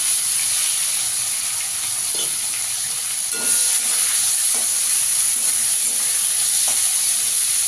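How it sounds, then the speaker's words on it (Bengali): Chopped onions fry in oil in a pan for a Bengali fish curry with coriander paste: a steady, bright sizzle runs throughout, broken by a few soft stirring scrapes, with no talking. "পেঁয়াজ কুচিটা দিয়ে একটু লাল লাল করে ভেজে নিতে হবে।"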